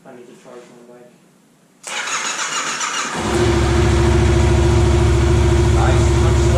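A Yamaha FZ-07 motorcycle engine cranks and fires up, then settles into a loud, steady, rumbling idle close by. Before the start there is quieter background sound, and voices are heard.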